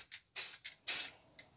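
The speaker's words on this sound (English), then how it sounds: "So I'll spray this off and then we'll start throwing our paint in." A spray paint can hisses onto a routed recycled wood plaque in a few short bursts, two long sprays and a couple of brief puffs, close and alone.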